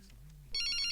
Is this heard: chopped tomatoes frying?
no